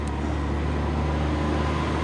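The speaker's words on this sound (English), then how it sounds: "Sorry about the traffic noise." Steady road traffic noise, a continuous low rumble of passing vehicles with no voices.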